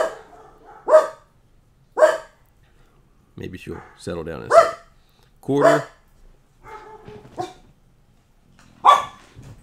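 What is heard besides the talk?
dogs barking during a thunderstorm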